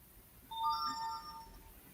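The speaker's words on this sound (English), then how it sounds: "Phone keeps ringing. Well, it's some form of a notification." A phone notification ringtone chimes once, a bright melodic electronic tone lasting about a second, moderately loud against a quiet background.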